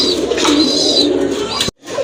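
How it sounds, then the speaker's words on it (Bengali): Pigeons kept for sale coo loudly and close by in a soft rolling murmur with brief higher calls, and the sound drops off suddenly near the end. "আরেক জোড়া কবুতর আছে এখানে মাশাআল্লাহ।"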